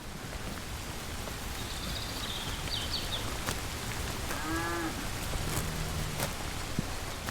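Steady rain falls on open pasture in summer, with faint bird calls and a brief low lowing from cattle standing in the downpour.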